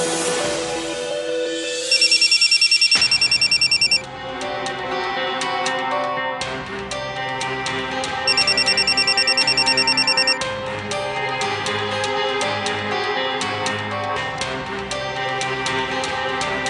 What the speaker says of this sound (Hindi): उठाओ गुंजन, कम ऑन